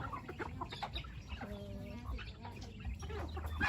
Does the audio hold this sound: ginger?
no